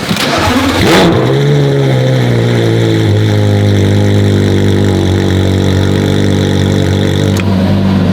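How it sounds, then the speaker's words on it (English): A new Lamborghini SVJ with a straight-piped V10 barks to life with a sharp, loud startup flare, then settles into a deep, steady, droning idle that holds close and alone until the end. "Now to start up the straight piped V10."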